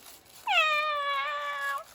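A single drawn-out cat meow, clear and close, rising then holding for over a second before ending, with a quiet room otherwise and no talk over it.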